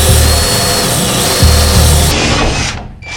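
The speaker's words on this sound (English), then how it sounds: "We're going to drill a hole." A power drill bores a hole through the rear door of a brand-new van during a window install, a loud, steady whine with strained low grinding that cuts off near the end.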